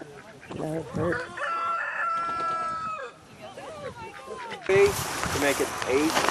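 A farm rooster crows, with other chickens clucking around it in a rural yard, while people talk over the calls and an outdoor wash of noise swells near the end.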